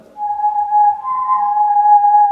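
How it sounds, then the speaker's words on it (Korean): A steady, clear whistling tone from a whirled pipe, sustained and fairly loud, with a faint higher overtone and no talking. "자, 파이프에서도 이렇게 소리가 날 수 있어요."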